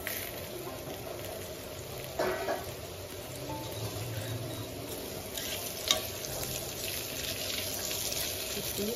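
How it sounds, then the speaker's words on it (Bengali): Potatoes fry in oil in a pan while a fish curry is being made, a continuous close crackling sizzle with occasional sharper clinks and scrapes of stirring throughout. "মা এবার হচ্ছে আলুগুলো ভেজে নিচ্ছে। মাছের জন্য আলু ভেজে নিচ্ছে।"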